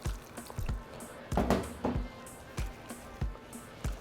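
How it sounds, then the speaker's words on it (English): Hot water poured slowly into flour for gorditas de harina dough, giving soft liquid splashes and drips with repeated wet bursts in a steady rhythm, close and quiet. "we're going to start to add hot water. So just add it slowly and mix it."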